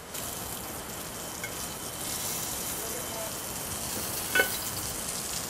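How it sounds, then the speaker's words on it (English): Fish, skin side down, sautés in a pan as part of a cioppino, producing a steady hissing sizzle that holds evenly for a few seconds at moderate volume, with one small spatter near the end. "I'm going to start by actually sauteing the fish on the skin side down."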